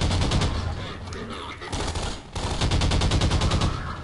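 Rapid automatic gunfire from a weapon in the video game Half-Life 2 rattles in loud sustained bursts with a short break midway, each shot sharp and close in a dense stream.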